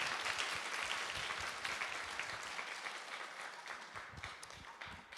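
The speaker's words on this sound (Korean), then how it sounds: "목사님 나오실 때 우리 한번 뜨겁게 환영의 박수 부탁드립니다." A church congregation bursts into warm, sustained applause to welcome the pastor. Dense clapping from many hands fills the room evenly and stays loud throughout the short stretch.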